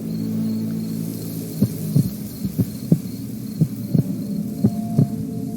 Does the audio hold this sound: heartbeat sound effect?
yes